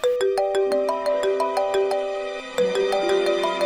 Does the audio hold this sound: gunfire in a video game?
no